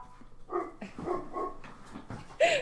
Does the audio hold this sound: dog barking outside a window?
yes